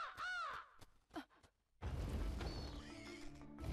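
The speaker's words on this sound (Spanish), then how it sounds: "Oh, un cuervo." Maleficent in crow form caws in Kingdom Hearts Birth by Sleep, with a few harsh, bending caws up close, a pause, then a crash and rumbling game effects with a ringing tone.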